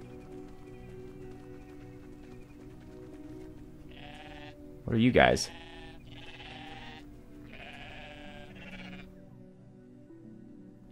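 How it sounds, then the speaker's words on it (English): Sheep bleat in the video game Everything, one loud, wavering call rising near the middle over steady game music, while someone speaks before and after it. "Yep, you are sheep."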